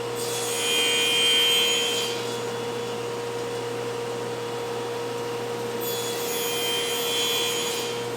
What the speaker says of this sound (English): so now we're going to cut with the grain